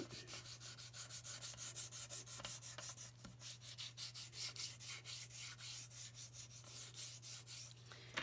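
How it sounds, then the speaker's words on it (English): A paper craft piece is sanded by hand in fast, even back-and-forth strokes, a soft rhythmic scratching that stays close and faint over a low steady hum. "let's sand it a little bit"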